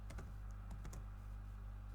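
A handful of quick, soft keyboard keystrokes, some close together and others spaced out, over a low steady hum.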